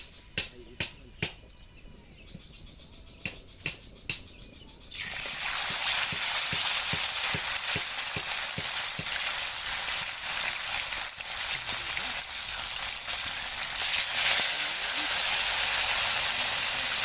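Steady loud sizzling of round scad fish frying in hot oil, preceded by a few sharp clatters and taps, with occasional crackles through the continuous hiss.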